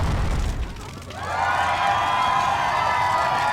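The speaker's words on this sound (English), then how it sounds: "People cheering for Dragonfire?" Crowd cheering at a riverboat dragon parade with decorated boat floats, a low rumbling burst fading into a sustained roar of distant voices and shouts, moderately loud.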